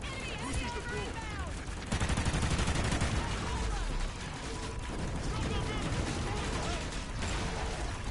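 Rapid explosive-round gunfire in a video game, dense overlapping shots and blasts in a sustained barrage, loud and continuous with in-game voices mixed in.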